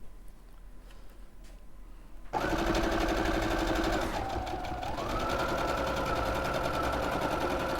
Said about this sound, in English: Brand new this week. They've just launched it, the Brother sewing machine.